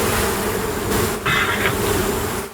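Honeybees swarming on the underside of a hive lid pried off the top box of a stacked hive, a dense, steady, close buzzing drone that fills the whole clip with no talk.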